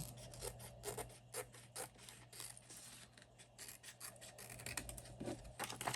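Scissors or a blade rasping through the top edge of a paper cash envelope, close and repeated in uneven strokes over a steady low hum.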